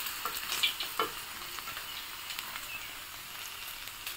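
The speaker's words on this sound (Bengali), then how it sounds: "সবগুলো মাছ সেম এরকম করে ভেজে নেবো।" Singi fish fry in oil in a pan, a steady close sizzle and crackle with a few sharper pops and utensil stirs near the start; no talking.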